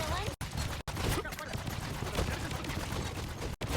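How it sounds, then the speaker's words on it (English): Enemy gunfire in a ranked Marvel Rivals match, a steady stream of rapid shots running almost unbroken through the moment with a few brief gaps, mixed with game sounds. "the little squid's shooting me"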